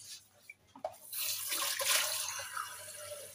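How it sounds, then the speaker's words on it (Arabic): Water pours into a juice glass in a kitchen, a soft splash that builds into a steady hissing stream for a few seconds, close and moderately loud. "هنايا الكاس البنات ديال العصير غادي ندير فيه شويه ديال الماء"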